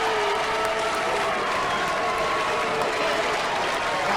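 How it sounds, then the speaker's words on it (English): A crowd at a Robot Wars robot-combat event breaks into sustained, loud applause, clapping steadily with no break across the whole stretch. "This is that hostile crowd."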